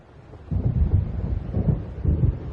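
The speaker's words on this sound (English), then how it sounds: "It seems there's a storm coming." Deep rolling thunder from an approaching storm in the video game Alan Wake, three low rumbling swells in quick succession over faint background hiss.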